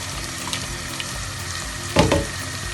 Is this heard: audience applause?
no